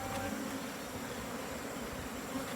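Bees buzz around a beekeeper's hives in a faint, continuous drone, with no voices over it.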